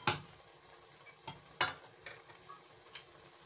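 Mutton pulao cooking over a low flame, with a soft sizzle and a few sharp scraping stirs of a spoon against the pot, faint and close.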